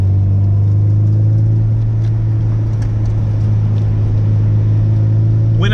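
A car engine drones steadily in third gear on a winding North Carolina mountain road, a loud constant low hum with rumble, no talk.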